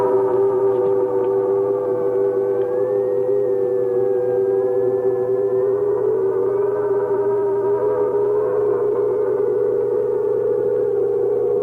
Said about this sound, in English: I'll switch on the outside sound pickup.